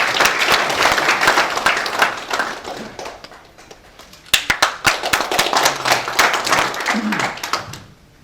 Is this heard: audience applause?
yes